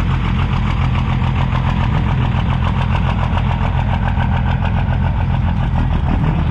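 A race truck's engine idles with a choppy, lumpy lope at a steady close range, its deep rumble pulsing unevenly and continuously with no talk over it.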